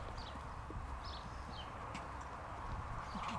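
A pony's hooves walking outdoors, a soft, irregular clip-clop at a distance with faint bird chirps in the background.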